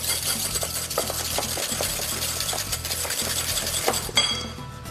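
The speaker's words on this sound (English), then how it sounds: "Take 2 egg yolks, separate them. Now give that a really nice whisk." Two separated egg yolks whisked in a bowl, a fast continuous rhythmic tapping and scraping of the whisk against the bowl, close and steady throughout, with a brief louder clatter near the end.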